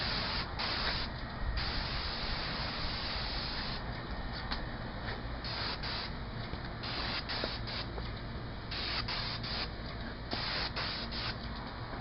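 A paint sprayer hisses steadily as it lays an accent color onto stucco trim, the spray cutting in and out in short bursts close by, with no talk.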